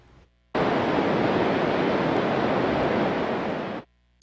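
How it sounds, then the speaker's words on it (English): Water released from the reservoir roars over the Hinckley Dam, a steady broadband rush that starts abruptly, holds loud and even for about three seconds, then cuts off. "Water rushing over the Hinckley Dam this afternoon."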